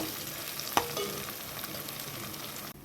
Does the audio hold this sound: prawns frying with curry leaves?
yes